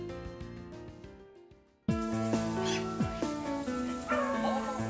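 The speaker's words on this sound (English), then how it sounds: "This is a school run by Toru Oki, where therapy dogs are trained" Therapy dogs at a training school in Japan whimper and give short yips. The sounds are layered over bright musical tones, starting quieter and then becoming louder and fuller partway through.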